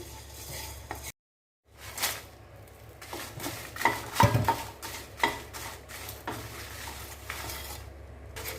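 Dry red chillies roasting in a pan for idli podi, with soft sizzling and intermittent scraping and clinking of a spatula against the metal pan, near and fairly quiet, with a short silent break near the start.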